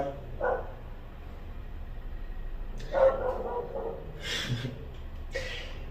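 A dog barks a few times, moderately loud and fairly close, in short separated bursts over a steady low background hum.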